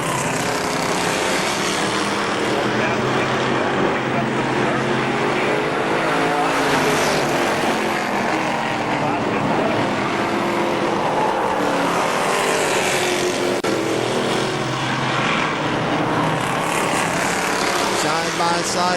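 Race cars battle side by side for the lead around KilKare Speedway, their engines a loud, continuous roar that fills the whole stretch while an announcer talks over it.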